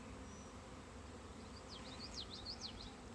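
Honey bees buzz around an open beehive during a hive inspection, a faint steady hum with brief higher whines of individual bees flying past near the end.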